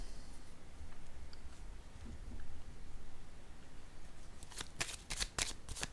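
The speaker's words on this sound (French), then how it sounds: "Je vais déposer une carte ici." Tarot cards handled on a table, a quiet rustling stretch followed by a quick run of crisp card slaps and shuffling snaps near the end, close and alone.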